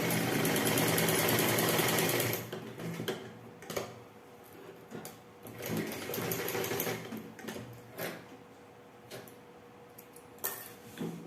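Sewing machine stitching pant fabric, starting with a sustained close, loud run of rapid stitching, then breaking into shorter, quieter bursts and ticking handling noises.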